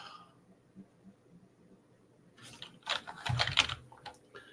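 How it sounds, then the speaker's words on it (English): Rapid keystrokes on a computer keyboard, starting faintly and swelling into a louder, dense burst of clicking in the second half, heard alone without talk. "I'm in my own dashboard typing in a monster"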